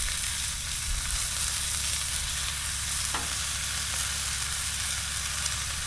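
A burger patty pan-sears flat on a Blackstone griddle, giving off a steady, close, broadband sizzle that holds even throughout, with a single faint tap partway through and no talking.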